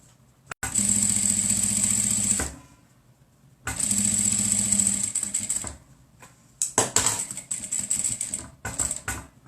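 A sewing machine backstitches a cotton face mask in two sustained whirring runs of about two seconds each, followed by shorter choppy bursts of stitching, close up with no talking.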